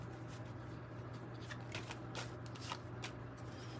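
Tarot card deck being shuffled, a soft continuous riffling and shuffling of cards close by, faint and steady over a low constant hum, no voices.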